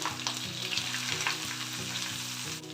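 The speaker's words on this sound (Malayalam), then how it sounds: "എൻ്റെ പച്ചമണം മാറുന്നിടം വരെ നമുക്കൊന്ന് ഇളക്കണം" Crushed coconut paste with green chilli, onion and turmeric being stirred in a hot pan for ash gourd thoran, a dense continuous sizzle with a repeating low tonal hum beneath.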